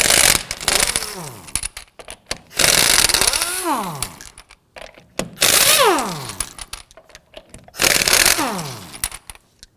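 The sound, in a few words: socket wrench loosening lug nuts on Ford Focus wheel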